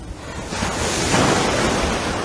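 Ocean swells break over a shallow sandbar at Paradise Beach, a loud, steady wash of surf that swells and builds into a fuller roar, with no voices.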